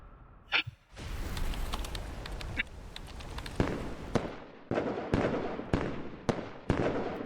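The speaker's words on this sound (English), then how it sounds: "we finally get to see the fireworks" Fireworks in Hollow Knight: Silksong crackle and pop in a dense, continuous volley, with sharper individual bangs bursting out at irregular intervals over a steady hissing bed.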